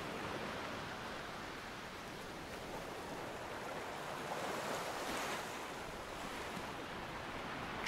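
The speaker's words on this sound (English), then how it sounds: "the sounds of the wind and waves" Ocean surf and wind blend into a steady, broad wash of noise that swells gently around the middle, continuous and alone with no voices.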